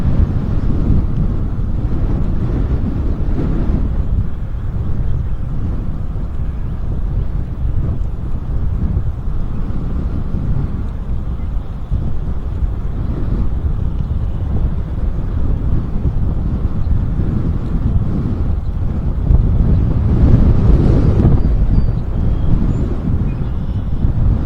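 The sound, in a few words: strong wind blowing along river trail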